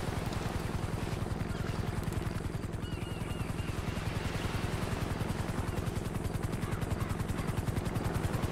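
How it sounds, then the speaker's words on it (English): A helicopter's rotor in Grand Theft Auto V thumps in a steady, rapid chop, loud and continuous throughout, growing slightly stronger as it approaches. "A helicopter has been dispatched to your location."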